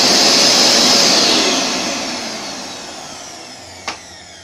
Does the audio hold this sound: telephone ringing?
no